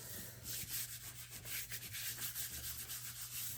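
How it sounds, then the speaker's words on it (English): Paper glued down as the base of a large handmade album is burnished with a tool, making a steady close scraping rub that repeats in quick strokes, soft and alone. "So just make sure you burnish it."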